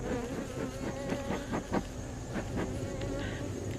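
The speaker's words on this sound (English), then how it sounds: "Got plenty of bees on top, plenty of coverage." Dense, steady buzzing of many honey bees crowded on top of an open hive during a fall inspection, close and continuous with faint handling noises.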